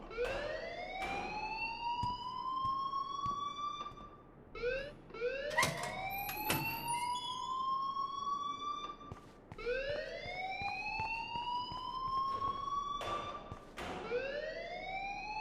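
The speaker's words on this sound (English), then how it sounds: "please turn off that alarm since that's your job" A school alarm blares in the video game Life is Strange, a loud rising electronic wail repeating every couple of seconds with sharp interruptions between some cycles, continuing throughout.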